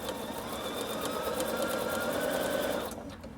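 A Bernina sewing machine runs steadily through fabric, its fast even stitching whir close and loud, then stopping abruptly near the end.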